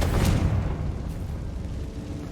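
A Confringo blasting spell exploding in Hogwarts Legacy, a loud, deep boom that hits at once and trails into a rumbling roar.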